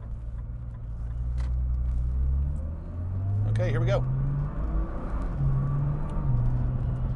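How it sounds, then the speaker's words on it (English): A 2013 Nissan GT-R engine rises in pitch, drops, and climbs again as it shifts up through gears, with a brief spoken remark partway through. "You can kind of hear it going through those gears."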